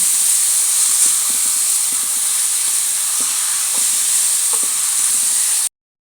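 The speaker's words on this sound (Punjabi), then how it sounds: "ਆਪਾਂ ਚੰਗੀ ਤਰ੍ਹਾਂ ਭੁੰਨ ਲਾਂਗੇ" Grated pumpkin being roasted in a pan for village-style halwa, giving a steady bright sizzle with faint intermittent scraping of a spatula, close and continuous before cutting off abruptly.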